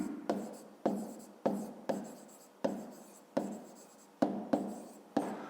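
A pen writes on paper during a 5th-grade maths exercise: nine or ten short scratchy strokes in bursts, close and clear, with no talking.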